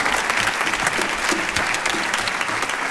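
A concert audience at the Palais des Congrès du Futuroscope applauds loudly and steadily, with dense, continuous clapping and no break throughout.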